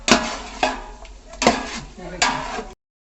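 A metal spoon scrapes and clanks against a pot as biryani ingredients are mixed with a little salt, four distinct scraping strokes at an uneven rhythm, close and fairly loud.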